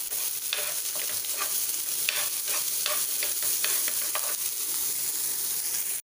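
Sliced onions and green chillies fry in a hot pan with a steady, close sizzle. A spoon stirs them in scraping strokes that rise above the sizzle throughout, and the sound cuts off abruptly at the end.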